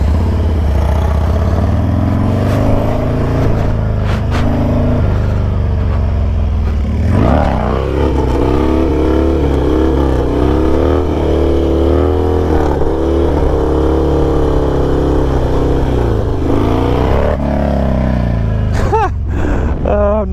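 A motorcycle rides along the street with its engine rumbling loud and close throughout, the pitch climbing and falling as it revs through the gears, with a voice briefly speaking over it.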